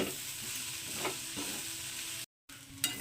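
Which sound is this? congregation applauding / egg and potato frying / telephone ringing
egg and potato frying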